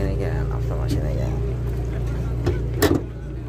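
A Chevrolet Cobalt idles on petrol at a car market, its engine giving a steady low hum throughout, with a person talking nearby.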